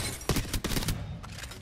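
A rapid burst of gunfire in the video game Apex Legends, several sharp shots in quick succession, fairly loud, followed by a few fainter trailing shots.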